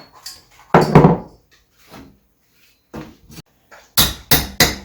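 A metal hoop is hammered off a wine barrel, with one loud, ringing strike, a few softer knocks, and then three sharp, evenly spaced hammer blows close by, with no talking.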